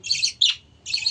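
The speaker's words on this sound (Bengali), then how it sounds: "এই যে বাচ্চা ডাকছে দেখো" A baby bird calling close by while its parent stays near, three short bright high chirps with a brief gap before the last.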